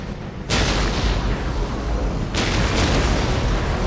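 Ork artillery in the Warhammer 40K Dawn of War video game: a continuous roaring, rumbling barrage with two sharp onsets of heavy booms, loud and dense throughout, no talk.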